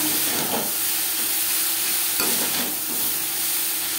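Grated coconut and yardlong beans fry together in a kadai, giving a loud, steady sizzle broken by a couple of scraping stirs of the spoon against the pan, with no voices.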